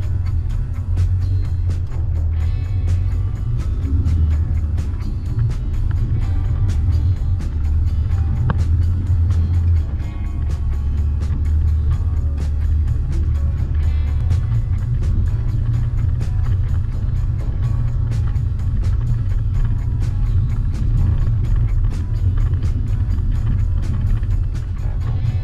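An off-road 4x4 vehicle on General Tire Grabber AT3 all-terrain tires doing a stop-start test on a ramp climb, a steady loud engine drone with low rumble throughout, close and continuous, no talking.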